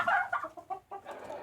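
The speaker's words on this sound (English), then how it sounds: "And there's chickens! Yeah, all the chickens are looking for food" Farm chickens clucking close by, a few quick, short clucks in an irregular rhythm, clear and alone without talk.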